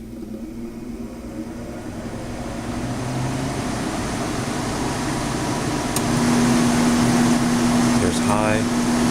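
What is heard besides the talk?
air conditioner running in fan-only mode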